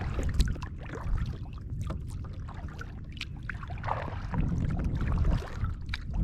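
Small 7'8" kayak paddled across a lake while trolling a lure, soft water swishes and trickling drips under a gentle wash of wind.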